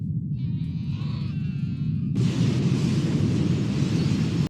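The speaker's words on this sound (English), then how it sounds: "That's one heck of an explosion just from water." An anime explosion from water: a bleating, tonal cry gives way to a sudden loud, sustained roaring blast that rumbles on to the end.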